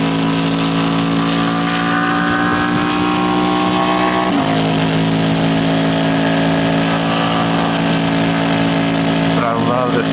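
A BT Moto tuned Ducati Panigale V4S roars loud and close under acceleration while riding, its engine note climbing steadily then shifting briefly before pulling hard again amid strong wind rush.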